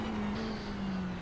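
A Ferrari GT3 race car on a qualifying lap at Suzuka in iRacing gives a loud, steady engine drone with a sustained tone that dips slightly in pitch, with no talk.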